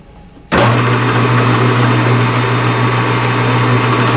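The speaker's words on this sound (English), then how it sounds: "I'm just going to use the cutoff tool to face it too, just a smidge" A metal lathe turns a shaft for a tire buffer while a cutoff tool faces the end, starting abruptly as a loud, steady machine whine with a low hum and broadband cutting noise that continues without a break.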